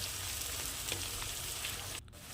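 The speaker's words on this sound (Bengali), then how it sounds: "আর এখানে আমি 3টে পরিমাণে বড় পেঁয়াজ কুচি করে নিয়েছি। এবার এটাকে একটা লাল লাল ব্রাউন কালার করে আমি ভেজে নেব" Chopped onions fry in oil over high heat for a Bengali mutton kosha, giving a steady, dense sizzle close by that drops off briefly near the end.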